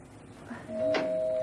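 A doorbell chimes indoors in a quiet home setting, a single moderately loud electronic tone that holds steadily after a soft lead-in.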